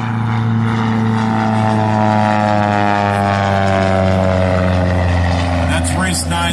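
Cessna 172 light airplane in an air race, its propeller engine droning loud and steady with strong harmonic bands, pitch sliding slowly as it passes; voices talk faintly underneath.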